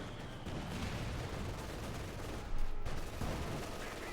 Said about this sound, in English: Artillery fire running down the machine gun inside the house